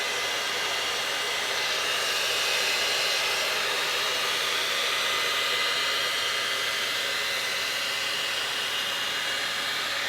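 T3 Micro AireBrush Duo hot air brush with a paddle brush running at its highest heat and speed setting, a loud, steady, close whoosh of blowing air that holds unbroken throughout.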